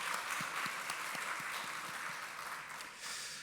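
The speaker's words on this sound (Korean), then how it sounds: "함께 하나님 앞에 박수로 영광 돌리시죠" A church congregation at a Wednesday service applauds together, a steady, distant wash of many hands clapping that holds evenly throughout and stays faint, with no talking.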